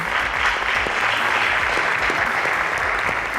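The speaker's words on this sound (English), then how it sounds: "A round of applause for them." Steady, dense applause from a quiz competition audience, loud and sustained throughout with no talking over it.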